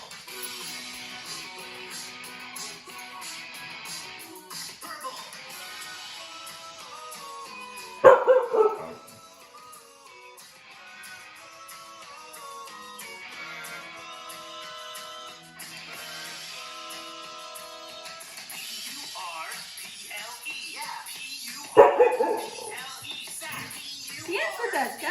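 A dog barks and howls in a few short loud bursts along with people singing a children's song indoors.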